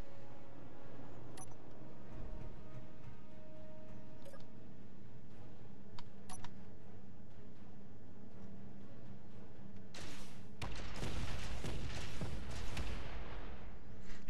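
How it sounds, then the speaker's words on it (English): Spaced heavy gunshots from a gun firing at armor blocks on a gun range in the video game Space Engineers, several single reports over a low steady hum, then a denser loud burst of impacts near the end. "that was definitely 5 shots to penetrate 2 layers there"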